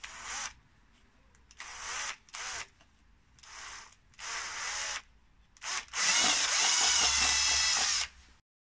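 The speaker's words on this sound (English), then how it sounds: "just going to drill these holes here" Power drill boring holes through gasket paper during a VW Polo 1.4 TDI inner CV boot replacement: short, loud whirring bursts with gaps between them, then a longer sustained run.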